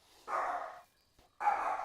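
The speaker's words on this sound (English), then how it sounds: "so if you hear barking, guys, it's because we have squirrels outside the window" A dog barks at squirrels outside a window, two separate barks with a short silent gap between them, faint and somewhat distant indoors.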